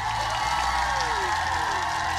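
A canned crowd cheering and applause effect, a continuous wash of clapping and faint whoops at an even level with no voices on top.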